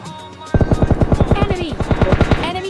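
Automatic rifle fire in PUBG Mobile Lite while shooting an enemy, a steady run of roughly twenty evenly spaced, loud close shots following a short lead-in.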